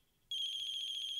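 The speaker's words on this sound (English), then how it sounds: "I think that's my phone." Electronic phone ringtone in a coffee shop horror video game, a faint tone swelling into a loud, steady, close ringing that holds without pause.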